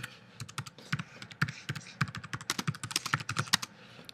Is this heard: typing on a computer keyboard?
yes